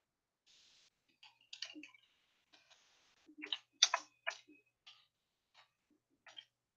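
Scattered keyboard key clicks, irregular and quiet, arriving in short bursts with brief pauses between.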